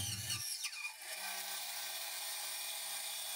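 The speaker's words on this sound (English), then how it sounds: "I roughly squared my stock on the bandsaw" A bandsaw rips through wooden handle stock for a sledgehammer, a close, high rasping whine that runs steadily after a short low rumble at the start.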